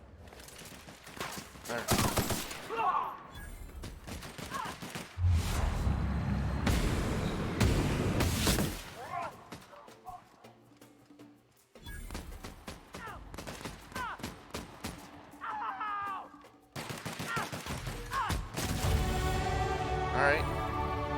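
Gunfire from a weak gun in The Outer Worlds on Xbox One, repeated loud shots in uneven clusters with pauses between volleys and someone talking over parts of it.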